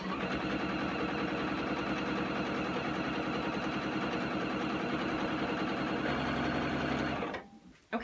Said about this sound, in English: we're just going to sew on either of those lines